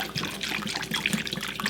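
Hot liquid from the stove is poured into a bowl of gelatin and stirred, a steady close splashing and trickling with light sloshing throughout.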